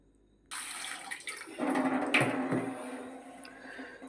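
Potatoes get washed under a running kitchen tap: water gushes in abruptly and keeps splashing and rushing steadily, with handling sounds as the potatoes are rinsed close by.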